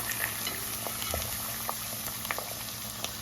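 An egg frying in butter in a pan makes a quiet, even bubbling sizzle with light scattered pops, heard on its own without talk.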